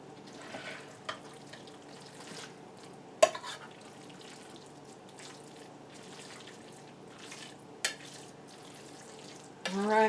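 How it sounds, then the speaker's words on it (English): Pork being stirred in a pot to coat it, with a quiet, steady wet shuffling and faint sizzle throughout, broken by a few sharp knocks of the utensil against the pot. "So that's why you want to stir as you go. Make sure you're getting it all covered."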